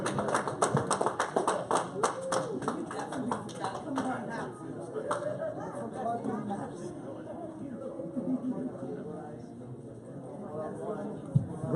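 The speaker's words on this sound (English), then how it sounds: "Let's clap for the big boys." A crowd at a boxing weigh-in claps in a brisk scattered patter that thins out after a few seconds, under continuous chatter and a speaking voice.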